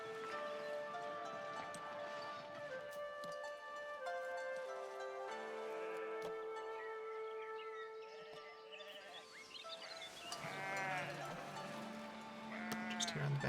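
Sheep bleat repeatedly in the medieval town-building game Foundation, several wavering calls over layered background music and game ambience.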